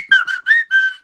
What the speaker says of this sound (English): I can't do the whistle